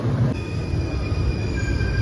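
The Janmabhoomi Superfast Express, running from Visakhapatnam to Secunderabad near Sattenapalli, rumbles along in a steady, loud, continuous roar with thin metallic wheel whines ringing above the din.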